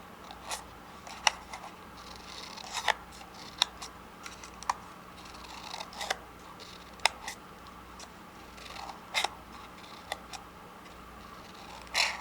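Scissors cutting along a fold in paper while making a paper firebird: a steady series of crisp snips and small clicks, close-up over a constant low background hum, with no talking.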